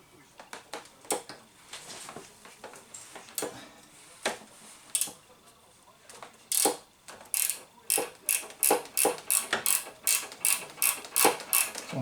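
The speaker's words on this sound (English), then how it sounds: "So I'm just loosening up the top bolt first." A ratchet clicks as it loosens the top bolt, a size 15, on the front shock of a BMW R1100 motorcycle; bursts of sharp, close ratcheting build into a steady rapid rhythm toward the end, with some talk early on.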